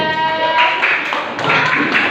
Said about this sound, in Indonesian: Tepuk tangan untuk Mbak Ida